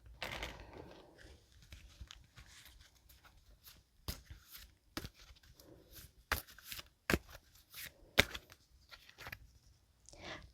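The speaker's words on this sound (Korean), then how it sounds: "제가 추가 카드를 통해서 11월을 잘 보내기 위한 조언의 카드 한 장을 뽑아보도록 하겠습니다" Tarot cards being shuffled and one drawn on a table, with soft rustling and a series of sharp, irregular card slaps and snaps, close and quiet, with no speech.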